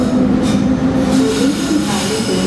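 A classic TEE train bound for Chur runs with a steady low rumble of carriages and faint wheel squeal throughout, continuous and fairly loud with no pauses.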